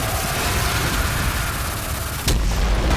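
Weapon firing in the video game Destiny 2, a dense, continuous barrage of booming, crackling shots that cuts abruptly to a deeper rumble just past two seconds, loud and without talk.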